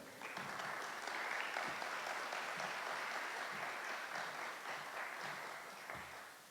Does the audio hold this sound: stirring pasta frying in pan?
no